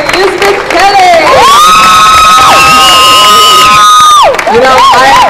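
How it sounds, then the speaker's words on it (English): A loud, close crowd at the Rose of Tralee 2011 event cheers, whoops and shouts for Elizabeth Kelly, with sustained high calls over dense applause. "Big round of applause for Elizabeth Kelly."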